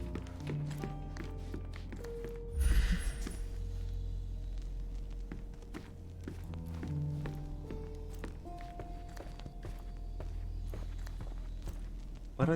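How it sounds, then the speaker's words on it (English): Footsteps thud on the floor upstairs in a Sherlock Holmes video game. The soft, muffled steps come in an uneven series, with a heavier knock early on and quiet ambience underneath. "I heard footsteps upstairs a second ago"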